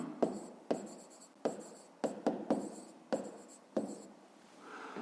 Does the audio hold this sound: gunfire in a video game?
no